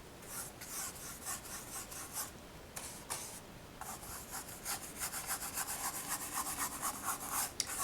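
A paintbrush scrubs paint across a mountain landscape painting, giving a steady dry rasping and rubbing sound in repeated short strokes, close and fairly quiet, with no talking.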